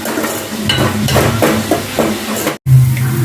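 Spice paste with salt frying in a pan for a small fish curry, a steady sizzle with a few stirring scrapes, loud and close, briefly cut off before the hiss resumes.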